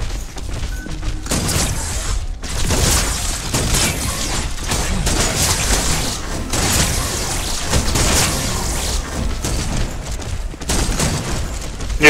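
Rapid bursts of gunfire from the hero shooter video game Paragon, loud and nearly continuous with dense overlapping shots and heavy booms throughout.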